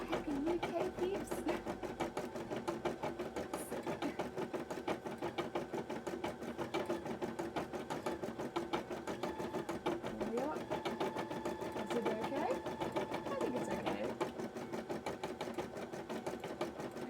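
An embroidery machine stitches a cosplay design with a steady, fast mechanical whirring and needle chatter, quiet and continuous, while a person talks over it.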